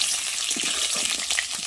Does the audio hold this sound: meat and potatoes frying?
yes